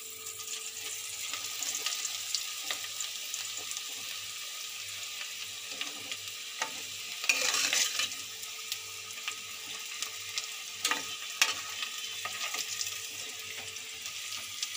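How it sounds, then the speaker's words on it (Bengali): Potatoes fry in oil for an egg curry with a steady, close crackling sizzle that runs throughout, swelling briefly near the middle and punctuated by a few faint clicks. "আলুটা একটু লাল লাল করে ভেজে নেব"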